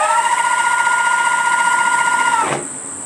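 The motor of a Fiik electric skateboard whines with a steady, loud, tonal hum, then drops sharply in pitch and fades as the board brakes and spins down.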